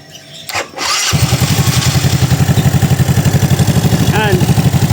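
A Yamaha Mio scooter engine cranks and catches, then settles into a loud, close, steady idle with a rapid even putter, while a voice speaks briefly near the start.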